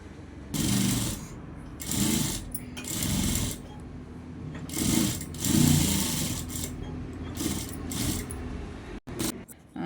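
A sewing machine stitches fabric in several close, loud bursts of rapid whirring clatter, starting and stopping at irregular intervals.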